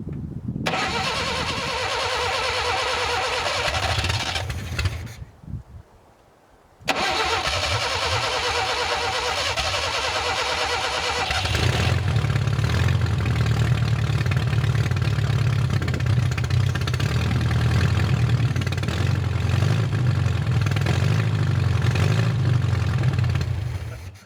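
The engine of a vintage Suzuki LJ50 Jeep, abandoned for 20 years, cranks, stops briefly, then catches and runs at a steady, buzzy idle, close up and with no voices.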